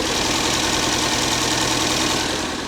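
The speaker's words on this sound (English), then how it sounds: "Whoever rebuilt the bottom end of that engine is pretty good." A rebuilt classic Renault engine runs steadily, a dense, continuous mechanical rumble with a knocking, ticking texture, close and loud throughout with no talk.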